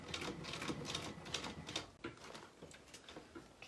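A sewing machine stitching forward through a bag with lining, a rapid mechanical clatter that runs steadily, then briefly drops off and resumes more softly near the end.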